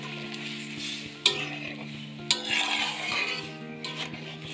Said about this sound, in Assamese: এতিয়া মই গোটেই দালিখিনি ইয়াতে ঢালি দিম। ঢালি মিক্স কৰি ল'ম।